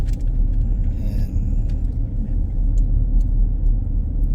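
City road traffic in Brandon, Manitoba, a constant low rumble of car engines and tires heard from inside a moving vehicle, with faint small rattles above the drone.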